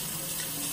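Tap water runs steadily from a faucet into a sink while a blue crab is cleaned, a continuous close hiss and splash with no talking.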